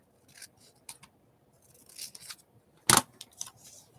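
Scissors make one sharp, loud snip amid quiet handling and rustling while material from previous magazine harvests is cut.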